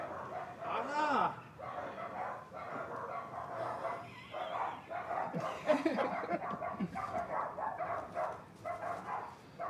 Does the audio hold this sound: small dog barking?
yes